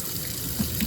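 Cold water runs from the faucet into the sink of a 2022 Forest River No Boundaries travel trailer, a steady, fairly close, soft stream with a couple of small splashes.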